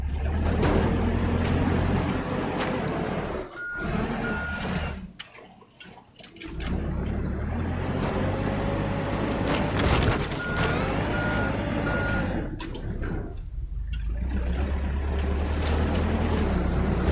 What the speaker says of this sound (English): Try and push the dump truck into the water.